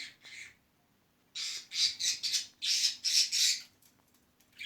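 A bird squawks loudly and harshly up close, in a run of rapid repeated bursts after a short pause, with no one talking.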